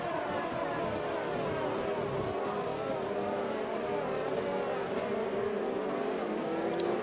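A Formula 1 car in the F1 2021 video game drives along the back straight at Shanghai, its engine a continuous high, loud drone whose pitch climbs slowly, heard alone.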